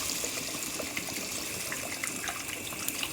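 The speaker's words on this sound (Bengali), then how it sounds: "এবারে এর মধ্যে আমি জল দিয়ে দেবো" Water pours steadily into a pan of fried fish, a close, continuous rushing gush with no talking.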